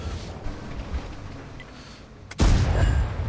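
A tank cannon in World of Tanks fires at a Panther, a single loud, deep boom that bursts in suddenly near the end after quieter rumbling background game noise.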